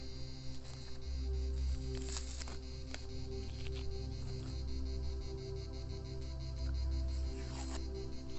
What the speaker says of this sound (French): Je sais pas si vous entendez les grillons là,